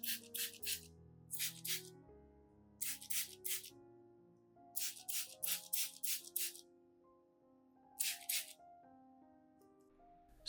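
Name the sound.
spray bottle misting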